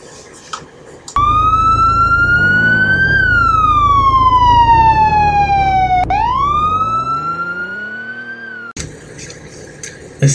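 A police car's siren wails loudly and close as the car drives off, its pitch sweeping up and down in long cycles over a low engine rumble before cutting out abruptly.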